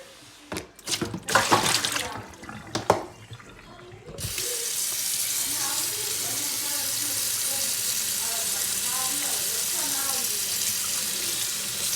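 A kitchen tap in a sink starts running hot after a few sharp knocks and clatters, then gives a steady, close hiss of water streaming and splashing.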